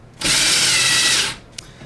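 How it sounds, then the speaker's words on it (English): A loud power drill driving screws into a keyless door knob whirs steadily for about a second, then stops, followed by a brief click. "When in doubt, bring the power tool out."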